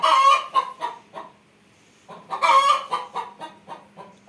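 A hen clucks in short bursts near a homemade automatic poultry waterer, a few close, clear clucks, a pause, then a louder run of rapid clucking.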